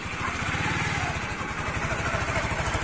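A Honda CBR150R motorcycle engine runs steadily at low revs as the clutch is eased out, a close, even pulsing throb with a faint voice in the background.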